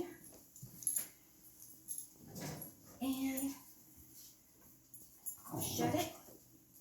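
Dogs whimpering and yipping in a home kitchen beside an open oven while a cake goes in, short whiny bursts rising over someone talking, close and moderately loud.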